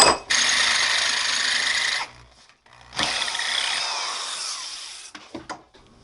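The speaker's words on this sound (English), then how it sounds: "once you have the pilot holes, they drill super nice" A power drill whines loudly for about two seconds, pauses, then drills again for two more, winding down with a few short bursts, drilling pilot holes during a 1980 Kawasaki KZ705 LTD fork rebuild.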